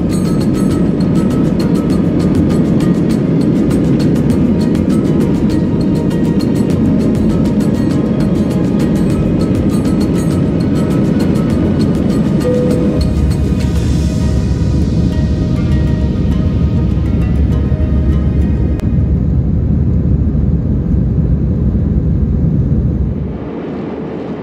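A Libyan Wings airliner climbing out of Tripoli after takeoff, its engines making a loud, continuous roar and rushing wind noise heard from inside the cabin that eases slightly toward the end.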